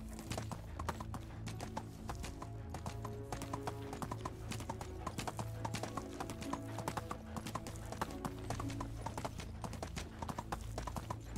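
Donkey hooves clip-clop in a steady walking rhythm in the Medieval Dynasty video game. The footsteps stay close and even for the whole stretch, and faint ambient game sounds run underneath them.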